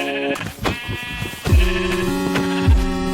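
Minecraft sheep bleat clearly and loudly several times in a row, each wavering cry close and unaccompanied by speech.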